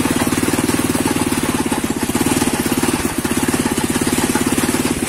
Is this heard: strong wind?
no